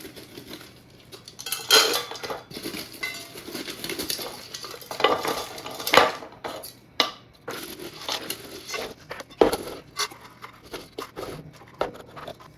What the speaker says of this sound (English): And you just fill it up with your wood chips.